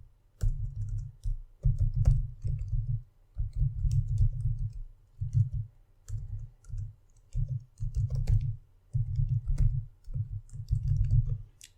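Steady bursts of keystrokes on a computer keyboard while a column name is typed, the clicking coming in short rhythmic runs with brief pauses between, close and fairly soft, with no voices.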